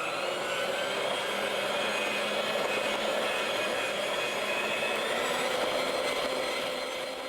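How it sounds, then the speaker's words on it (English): An electric mixer whirs steadily through pumpkin pie batter, a continuous high-pitched motor whine that holds level for several seconds with no talking over it. "I'm just going to mix this with my mixer here."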